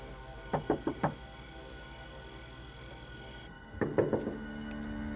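Two bursts of knocking on a door, each a quick series of four raps, separated by a pause; fairly close and crisp against a quiet background.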